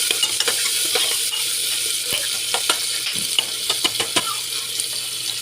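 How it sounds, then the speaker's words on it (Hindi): Chopped tomatoes and lightly browned onions sizzle steadily in a hot pan, with frequent scraping and clicking from a spoon stirring them together up close. "टमाटर भी मैं थोड़ा सा मिला दूँगी।"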